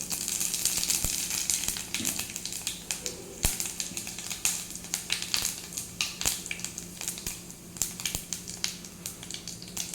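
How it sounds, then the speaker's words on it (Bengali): Panch phoron whole spices sizzling and crackling in hot oil left from frying potol, a steady close frying hiss with scattered sharp pops and spits throughout. "এবার ওই তেলেই আমি দেব পাঁচফোড়ন"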